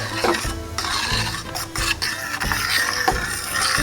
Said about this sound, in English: Now stir occasionally just to check on the consistency